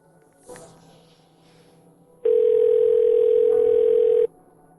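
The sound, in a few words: telephone dial tone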